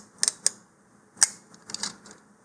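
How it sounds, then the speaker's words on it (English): Transparent tape pulled off a roll during a model rocket shock cord repair, heard as a few short, crisp ripping bursts with quiet gaps between them, close and fairly soft. "for the streamer, I just need some transparent tape here"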